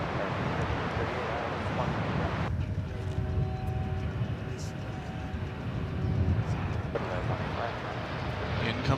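American Airlines flight from Des Moines arriving at DFW Airport, a steady broad jet roar with wind rumble throughout, a thin engine whine rising briefly in the middle, distant and continuous.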